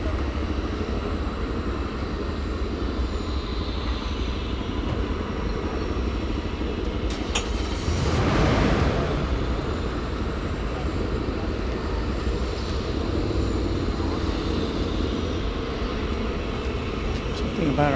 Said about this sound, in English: Another 20th century aircraft for you.